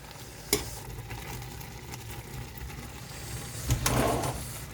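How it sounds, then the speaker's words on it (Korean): Food being stirred and mixed by hand with an oil sauce after the heat is turned off, a steady soft scraping and mixing texture with a couple of sharper clanks, close and continuous with no talk. "제일 나중에 불 끄고 비비는 게 좋습니다"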